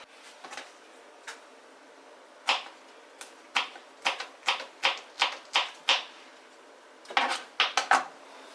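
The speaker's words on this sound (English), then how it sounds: "Like this is how I like to chop my onions. I mean, sorry, my okra." A knife chops okra into pieces on a board in a steady series of sharp, close taps with a few scattered cuts before it, heard alone without talk.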